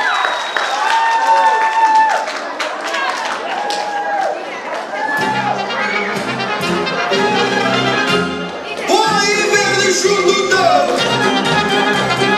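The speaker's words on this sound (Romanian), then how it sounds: "Haideți să mai aplaudăm încă o dată." An audience claps and cheers at a Romanian folk festival of traditions and customs, with sustained dense applause mixed with crowd chatter and loud music-like tones running throughout.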